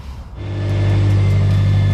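A car engine starts and settles into a steady, loud idle right after coolant is added to a newly fitted Mishimoto performance radiator, with a low hum and faint regular ticks over it.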